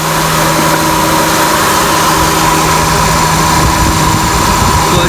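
A car engine idles with the A/C compressor clutch engaged, giving a loud, steady drone with a constant mechanical hum and whine, close-up, with no talking and no change throughout.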